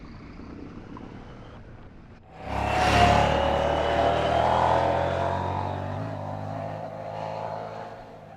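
A 2024 Husqvarna Svartpilen 801 motorcycle heard onboard while riding: after a quieter start the engine swells into a loud, sustained droning roar that holds and gently rises and falls.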